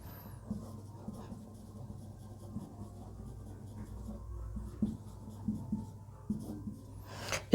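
A marker or chalk scratches and scrapes across a board while notes are written, faint and close, with small taps and strokes that grow louder near the end.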